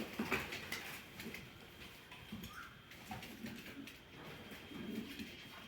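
Domestic pigeons cooing in a Turkish pigeon loft: soft, low, rolling coos repeat several times at a moderate distance over a faint hiss of background noise, with no talk.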